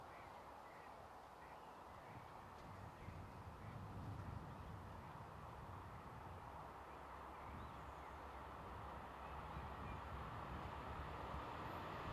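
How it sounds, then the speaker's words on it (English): Vossloh G2000 diesel locomotive hauling a short rake of Colas rail ballast wagons, heard as a steady, faint, distant rumble that slowly swells. "Approaching the camera with a short rake of Colas rail ballast wagons is Europort's Vossloh G2000 locomotive number 1755."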